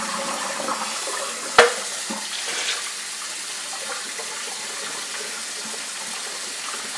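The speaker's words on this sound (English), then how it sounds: "You really want to empty this out and rinse the pan out" Water pours and swirls as a pan is emptied and rinsed out during vinegar rust removal, a continuous close gushing flow with a sharp knock early on.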